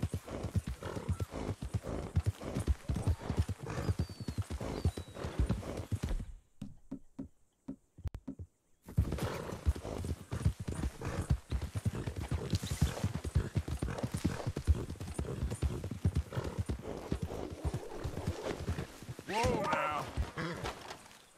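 Horse hooves clip-clopping in a steady rapid gallop in the video game Red Dead Redemption 2, close and continuous, with a whinny, a short quiet gap midway, and someone talking over it.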